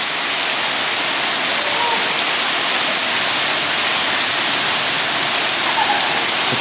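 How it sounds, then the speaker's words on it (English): Heavy rain pours down in a steady, dense hiss after a sudden mountain storm, close and loud, continuous with no pauses and no talking. "In the last few minutes, this rain has come up."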